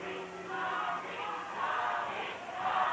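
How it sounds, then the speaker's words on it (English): A wrestling arena crowd at a Portland TV wrestling show yells and cheers in swelling waves, a dense, steady roar of many voices at middle distance with no clear single speaker. "they're yelling Baldy at Al Madrill"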